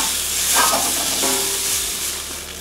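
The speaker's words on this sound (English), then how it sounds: "Now I'm going to go ahead and add my garlic and my ginger. And I'm going to continue to saute this some more." Garlic and ginger sizzle in a hot pan for Thai curry, a brief bright hiss with a short stirring scrape, close and clear with no talking.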